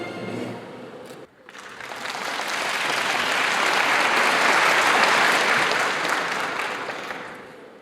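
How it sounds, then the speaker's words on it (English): An audience at a forum talk gives a long round of applause, starting after a brief moment of speech, swelling to a full dense clapping peak, then slowly tapering off. "Please give him a big round of applause."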